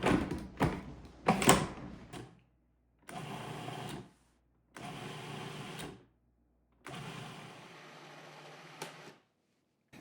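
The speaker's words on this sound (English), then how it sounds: "Pulse until mixture is combined and peas start to become creamy" A food processor pulses peas with salt into a creamy mixture in four or five separate bursts of whirring motor noise, each lasting about a second, with brief silences between them.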